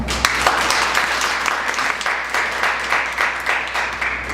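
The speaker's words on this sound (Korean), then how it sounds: "여러분 박수 한번 쳐주세요" An audience at a lecture event applauds as three speakers are introduced, a dense and steady clapping that holds at an even level throughout with no talk over it.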